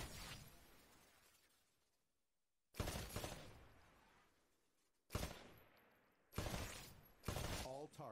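Rifle gunfire at targets on a shooting range in the Titanfall beta video game: sharp, loud bursts of shots, each trailing off into a ringing decay, arriving in irregular spaced volleys, with a quiet gap between the first two.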